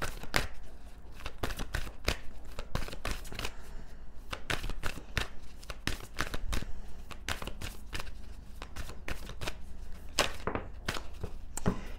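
Tarot cards being shuffled in repeated quick riffles and cuts, a dense run of sharp papery snaps and flutters, close and steady with no talking.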